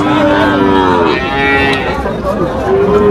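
A large Jersey cow moos loudly and close at a busy historic cattle market in Tepakhola, Faridpur, giving a long drawn-out bellow followed by a second shorter call amid crowd murmur.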